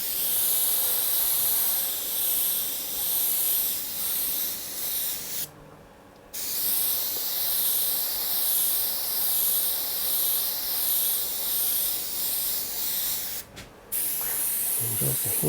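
An airbrush sprays paint onto a portrait, giving a loud, close, continuous hiss that cuts out briefly twice, once for about a second, before resuming at full strength.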